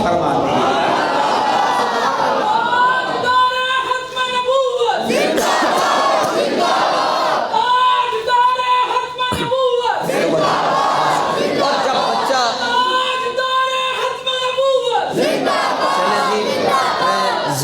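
A large crowd in a mosque shouts chanted slogans in unison, a leader's call answered by loud, roaring group responses that repeat in waves about every few seconds.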